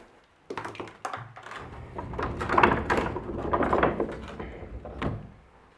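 A wooden pocket door in an 1888 Victorian mansion slides along its track, a series of rumbling, knocking wooden scrapes and bumps over several seconds, close and fairly loud.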